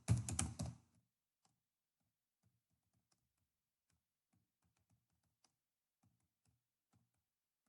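A brief burst of fast typing on a computer keyboard right at the start, followed by a few scattered faint key clicks over near silence.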